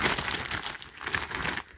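A plastic bag holding a packaged dish brush crinkles in close, busy bursts of crackling, with no voices.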